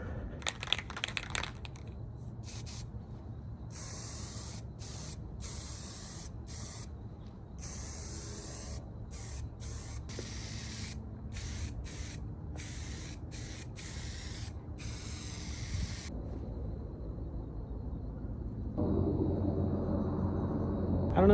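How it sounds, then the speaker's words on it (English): An aerosol can of spray paint sprays in repeated bursts on a Yamaha Jog scooter, loud hissing blasts separated by short pauses, close by, ending with a longer steady spray. "We're gonna spray it."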